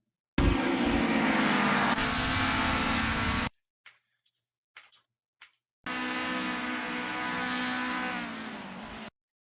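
Race car engines roar loudly in the Assetto Corsa racing game, two sustained blasts of high-revving engine noise separated by a near-silent gap with brief scattered bursts, no collision impact standing out.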